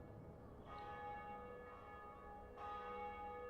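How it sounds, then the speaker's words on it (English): Church bells ring in Medieval II Total War: Stainless Steel, two loud strikes about two seconds apart, each leaving long, sustained metallic tones hanging over a steady background. "The bells ring out for the end of the Moors."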